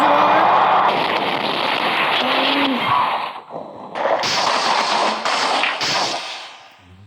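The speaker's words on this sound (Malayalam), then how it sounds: "വെടിക്കെട്ട് പൊട്ടി ഗൈസ്" Fireworks set off at a car crash test event, a run of loud cracking bursts and booms in quick succession, close and forceful, with crowd noise and voices underneath.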